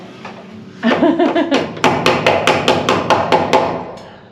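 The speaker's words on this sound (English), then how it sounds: "tight spaces make hammering exciting." A hammer strikes repeatedly in a fast, steady rhythm, each blow sharp, loud and close, ringing slightly as if in a cramped space.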